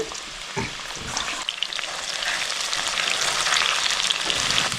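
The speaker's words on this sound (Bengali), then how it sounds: "এই চিকেনটাও আমার ভাজা হয়ে গেছে, ভালো করে" Chicken frying in oil sizzles steadily and builds to a dense crackling hiss, with a few stirring knocks early on, close and without talk.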